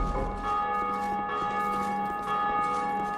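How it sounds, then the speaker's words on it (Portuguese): A large bell in Dark Souls II, rung by pulling a lever in a bell tower, sounds one sustained, ringing, resonant toll with long shimmering overtones, loud and alone. "entre nessa torre e puxe a alavanca para tocar o sino"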